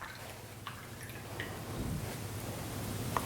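Soft watery drips and small splashes as a paintbrush is rinsed in water, faint and close, a few light clicks scattered over a quiet background.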